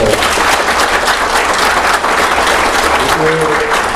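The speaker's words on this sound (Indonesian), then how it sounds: "Tepuk tangan yang ikhlas semua." A large audience at an outdoor field claps loudly and continuously throughout a company's 25th anniversary celebration, a thick, even wash of applause with a faint voice surfacing near the end.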